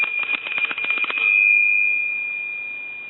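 An old bell on an Art Deco wall telephone rings in a rapid metallic trill for about a second, then rings on as a single clear tone that slowly fades; close and alone, with no voices.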